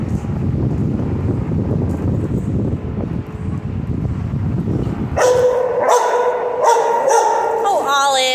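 A big puppy barks outdoors, several loud close yips and barks arriving in a quick burst toward the end after a stretch of rough wind noise and rustling.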